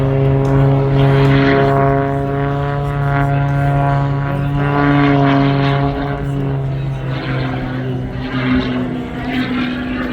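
MXS aerobatic airplane, about 1,200 pounds with nearly 400 horsepower, roaring through freestyle maneuvers at an airshow, its propeller engine loud and steady with slowly shifting pitch throughout.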